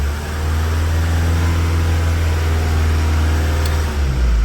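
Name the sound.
Mazda CX-5 engine held at 2500 RPM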